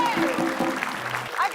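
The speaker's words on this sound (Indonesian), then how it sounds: "tepuk tangan buat saya" Studio audience applause on an Indonesian TV quiz show, a steady broadband clatter of clapping running through the whole short stretch while a voice talks over it.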